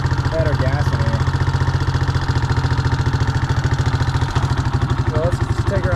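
A Yamaha Moto-4 ATV engine idling close by, a steady rapid thumping putter with a rattle, while a person talks over it.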